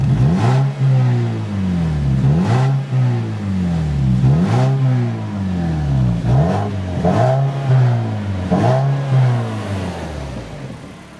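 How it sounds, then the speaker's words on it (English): A 2014 Mazda3 with a 2.0-liter Skyactiv engine and six-speed manual accelerates through repeated gears, its close, loud engine note rising and dropping in steady cycles heard from inside the car. "It kind of wants to keep me from revving it too hard."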